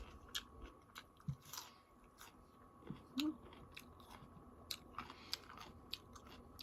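Someone bites into and chews an unripe raw wild peach, giving sharp crunches and wet chewing at close range, with a few brief bursts spread across the stretch and no talking.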